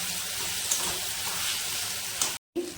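Onion with ginger-garlic paste and spices frying in a pan gives a soft, continuous sizzle at low volume, with a brief dropout near the end.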